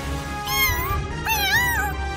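A cat meows twice, the second cry longer and rising, loud and close over a steady background hum.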